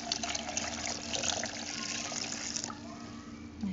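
Coconut water pours steadily from a freshly split coconut into a blender jar, a continuous liquid splashing and trickling that runs for several seconds and then thins out toward the end.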